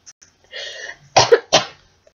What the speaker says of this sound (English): I'm still coughing now